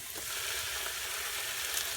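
Garlic hits a frying pan of green pepper and onion, giving a loud, even sizzle that stays steady and close with no talking.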